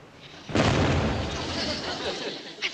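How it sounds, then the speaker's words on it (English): A fireworks aerial bomb goes off with one sudden loud boom, then a long rumbling decay that trails away; a faint extra pop comes near the end. "I think that last one must have been an aerial bomb."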